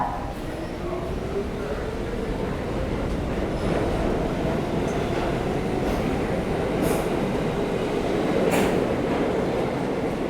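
A New York subway E train runs along the track with a steady rumbling roar and faint wheel screeches, heard from inside the car, with a little talk in the background.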